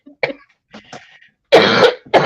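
A few short throat-clearing sounds, then two harsh, loud coughs close up, the second cut short.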